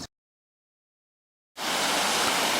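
Fresh mountain water flowing near a small dam: after a moment of silence, a steady broadband rush of running water starts abruptly and continues, fairly close and even.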